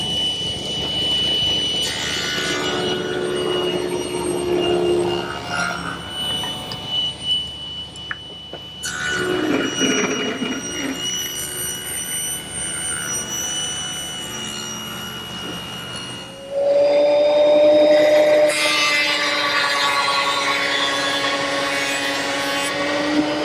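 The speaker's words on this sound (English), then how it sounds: "With the rip fence set at 1/4 inch, I want to take some 3/4 inch stock and rip some thinner strips." A table saw rips 3/4 inch stock into thin strips against a fence set at 1/4 inch, a loud steady motor whine that shifts in pitch as the blade takes the cut, with no talk.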